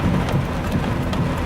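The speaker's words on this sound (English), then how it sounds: "we're still getting a lot of lightning strikes around the area, and the rain's eased off a bit" Heavy rain pours down during a severe thunderstorm on a highway, a dense, loud, constant hiss and patter with low rumbling underneath and no voices.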